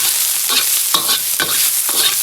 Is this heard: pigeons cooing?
no